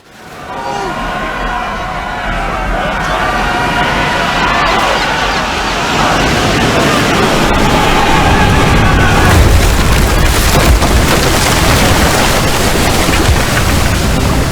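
A pirate ship rams a vessel in a Roman-era video game set on the Mediterranean, producing a loud, sustained crashing roar with rumbling impacts and crowd babble. Voices speak over the din.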